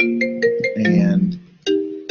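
A phone ringtone goes off during a recorded lecture, a melodic tonal ring repeating in short bursts with a brief gap, loud and close to the microphone.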